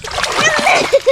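A child swimming in a cool village pond kicks up loud, close splashes of water while voices talk and call out nearby.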